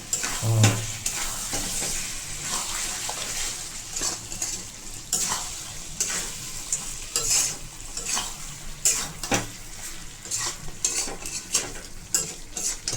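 Goat meat being fried down into kosha in a pan, with steady oily sizzling throughout and frequent scraping, clinking stirs from a utensil against the metal, close and fairly loud with no voices.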